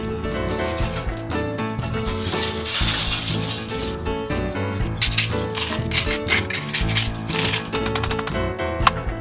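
Broken window glass is handled and shifted during a window replacement, giving a dense, continuous run of clinking, scraping and tinkling shards, close and fairly loud throughout with no clear speech.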